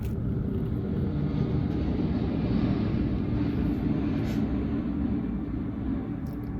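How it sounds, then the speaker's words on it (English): A plane flies over a south-facing apartment balcony, a low continuous rumbling roar that holds steady throughout, fairly loud and heard alone without voices. "I think it's a plane, to be honest."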